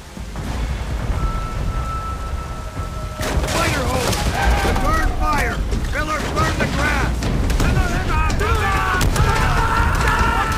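Heavy machine gun fire and booming blasts from a fortified bunker on an Okinawa hillside in Call of Duty: World at War, loud and continuous, with shouted voices breaking through in the second half.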